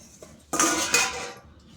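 A metal lid comes off a pot of fish curry with brinjal simmering on the stove, a sharp clinking clatter followed by a second knock, then the clatter fades.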